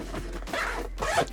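Close, quiet zipper on a bag's front pocket pulled open in two short rasping strokes, the front zip backed with nylon tape.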